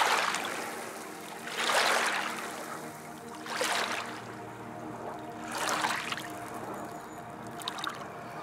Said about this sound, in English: The waves lapped gently against the shore alongside